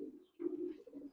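Racing pigeons cooing at close range, a low rolling coo, a brief pause, then a longer throaty coo that runs on and swells again toward the end.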